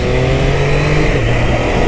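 Stock-exhaust Triumph Daytona 660 motorcycle engine revving close by, a loud, continuous raspy drone whose pitch dips briefly midway with no voices.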